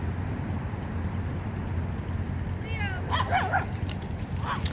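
Dogs at an off-leash dog park give a few sharp barks and high yips late in the clip, close by, over steady outdoor rumble and background noise.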